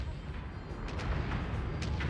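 Carrier weapons pound a destroyer in the space strategy game Homeworld 3, a steady rumbling barrage of low booms and scattered bursts that stays dense and fairly quiet throughout.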